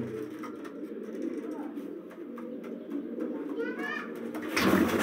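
Older breeder pigeons in a low-flyer breeding loft coo in a continuous low murmur close by, with a voice speaking at times and a louder rustle near the end.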